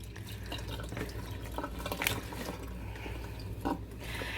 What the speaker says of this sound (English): So I'm just going to drain that in my colander.